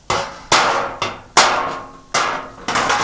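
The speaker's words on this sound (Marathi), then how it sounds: "आपल्याला ना ह्या पत्र्याला ना थोडेसे होल मारून घ्यायचे आहेत" A hammer drives holes into a thin metal sheet meant for roasting cashews over a wood fire, giving seven sharp, ringing metallic strikes at uneven intervals, loud and close with no talk.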